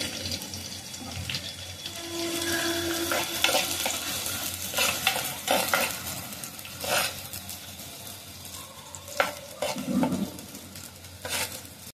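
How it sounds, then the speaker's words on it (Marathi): Onion going into a pan for a Maharashtrian raw jackfruit curry, with stirring and a steady sizzle of frying, plus a few clinks and scrapes of a utensil throughout; no talking. "आता मी टाकते कांदा."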